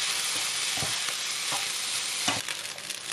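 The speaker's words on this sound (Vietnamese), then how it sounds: "Mình cứ chiên cho đến khi hột cơm nó săn lại" Fried rice with salted fish sizzles steadily in a hot pan, with a constant crackling hiss and a few soft scrapes of stirring. No voices are heard.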